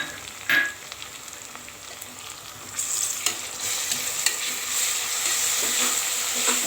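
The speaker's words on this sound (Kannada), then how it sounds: "ಸ್ವಲ್ಪ ಫ್ರೈ ಮಾಡ್ಕೊಳ್ಳೋಣ. ಶುಂಠಿ ಬೆಳ್ಳುಳ್ಳಿ ಪೇಸ್ಟನ್ನು ಹಾಕ್ಕೊಬೇಕು" Ginger garlic paste fries in a pan, a soft sizzle with a spatula knock early on, swelling into a louder, steady hiss and crackle for the rest.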